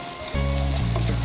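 Saffron zarda rice sizzling in ghee as it is stirred in the pot, a steady close frying hiss with low tonal hum, no voices.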